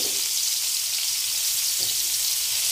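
Fresh tomato and ginger sizzle in a hot pan, a steady close hiss of frying with a couple of faint soft stirring thumps.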